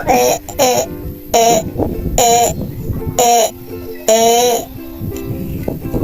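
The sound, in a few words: goat bleating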